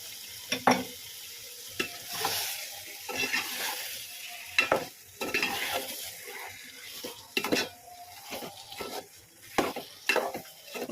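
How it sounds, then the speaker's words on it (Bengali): Beef fries in a spice paste for a Mezbani-style curry, with a soft sizzle under repeated scraping and clanking of a spoon stirring against the pot in irregular bursts. "এখন আমি মাংসটা দিয়ে দিব, যেহেতু মশলাটা হয়ে গেছে, মাংসটা কষাতে হবে"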